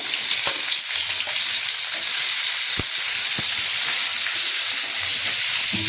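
Chopped onions fry in hot oil in a pan for a Bengali bharta with prawns and green chillies, a loud steady sizzle with a few soft clicks from stirring, close up and without speech.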